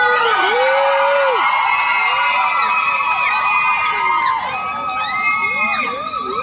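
A dense crowd of fans screams and cheers at an exclusive mall fan-meet event at Central Korat, with shrill high-pitched shrieks and whoops layered over continuous, loud crowd noise that carries from start to finish.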